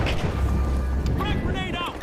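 A frag grenade blast in the multiplayer shooter The Finals, a heavy low rumbling boom that fills the short moment beneath game chatter and scattered effects.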